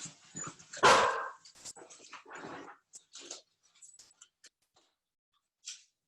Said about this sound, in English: that was a dog barking outside